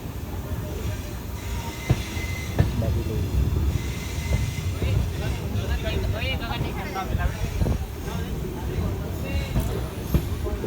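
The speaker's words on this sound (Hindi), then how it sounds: "चलिए निकल चुकी है अपनी ट्रेन, देखिए।" The Kumbh Express passenger train from Howrah to Dehradun rolls along the rails, a loud continuous rumble with rhythmic wheel clatter, occasional thumps and squeals, heard from inside the moving train with faint voices mixed in.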